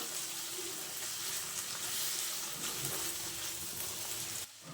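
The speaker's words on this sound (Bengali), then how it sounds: "আমি দিয়ে দিচ্ছি মাংসের টুকরোটা আর দিয়ে দিচ্ছি আলু কুচি। আবারও খুব ভালোভাবে আমি এগুলো নাড়াচাড়া করে নেব" Chicken pieces and chopped potato fry in a pan, giving a steady, fairly faint hiss of sizzling oil with no voices, which cuts off abruptly at the very end.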